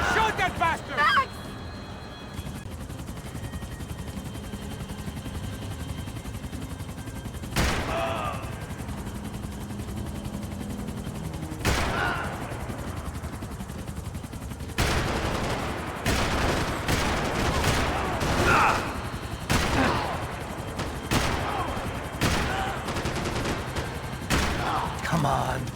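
Gunfire rings out in the Max Payne 3 video game, sharp bursts and single shots scattered through a chaotic scene, rising to rapid repeated fire in the second half, with a helicopter-like drone and shouting voices.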